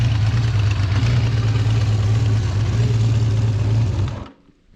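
A 1976 Benelli Sei motorcycle's small six-cylinder engine runs close and loud with a steady low drone that holds for several seconds, then cuts off abruptly into quiet.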